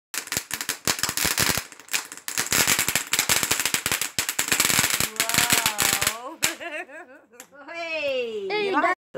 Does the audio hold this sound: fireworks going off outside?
yes